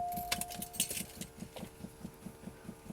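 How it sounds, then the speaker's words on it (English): Keys jangle briefly as the ignition key is pulled from a flooded Cadillac Allante with 21,000 miles, over a steady, evenly spaced warning chime that pulses about four times a second. "Remove ignition key."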